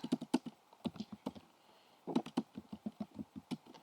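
Keys clatter on a computer keyboard while shortcuts are entered and a terminal is cleared, making a close, quiet run of irregular taps in two bursts with a short pause between them.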